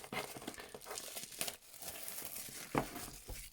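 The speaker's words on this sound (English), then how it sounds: "The cellophane comes off very simply, and you have the power bank." Cellophane wrapping peeled off the packaging of a Charmast 10400mAh USB-C power bank, a close, quiet run of crinkling and crackling with a few sharper tearing crackles.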